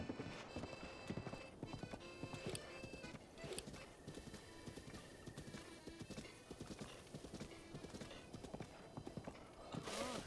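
Horse hooves clip-clop steadily in Zelda: Breath of the Wild, a quick, even galloping rhythm of sharp hoof strikes running continuously for ten seconds over a busy game soundscape.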